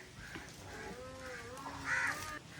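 Crows caw near an offering of vegetarian feast food laid on a leaf, several scattered harsh calls over a few seconds against faint outdoor background, one louder call near the end.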